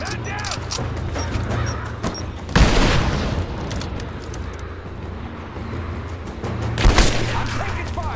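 Gunfire rattles in Rise of the Tomb Raider during the Baba Yaga DLC, a steady background of shots with two louder bursts standing out, one early and one near the end.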